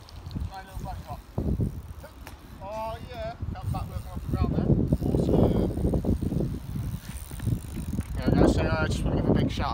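A small BMX bike being ridden for a short spin gives faint rolling and rattling noises beneath near-constant talking.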